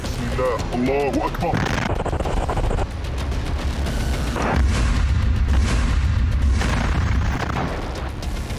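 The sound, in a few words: GBU-38 bomb explosion destroying a Merkava tank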